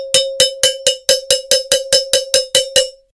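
A cowbell struck about a dozen times in a steady, fast, even rhythm, loud and close, with no other sounds.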